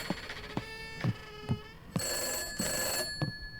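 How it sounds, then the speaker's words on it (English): A telephone rings in The Summer of 58, a horror video game set in an abandoned camp. The bell-like ring is loud and close, with short rhythmic pulses that swell into a fuller, sustained trill, and nobody speaks. "The phone is ringing."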